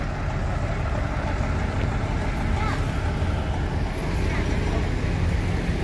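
Buses from Java pull into the Palembang bus station ticket office, a steady low rumble of idling and moving bus engines mixed with road noise, while a person talks over it.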